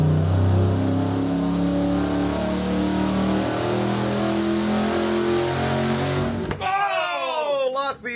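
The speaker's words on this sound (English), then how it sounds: "Blew the inlet tube off." A turbocharged 1,500hp junkyard short-block engine roars steadily at high revs on a dyno, then the note abruptly breaks into a loud whooshing, sputtering rush as the inlet tube blows off.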